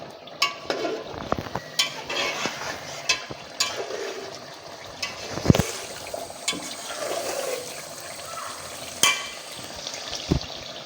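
Fish pieces fry gently in a pan with a low sizzle, broken by irregular scrapes and clinks of a spatula as they are turned, close by and with no talk.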